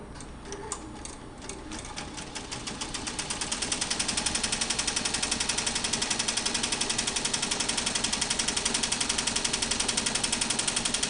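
An embroidery machine stitches the first outline of a butterfly applique in black thread, starting with uneven clicks and then settling into a loud, fast, steady mechanical rattle of needle strokes, close and with no voices.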